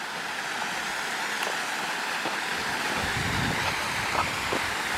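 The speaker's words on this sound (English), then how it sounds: "it's raining, it's windy, so I'm just going to quickly walk up to show you both waterfalls" Rain-swollen waterfalls at Stainforth pouring over cliffs on a wet, windy day, a steady broad rushing roar of water with gusts and rain mixed in, continuous throughout.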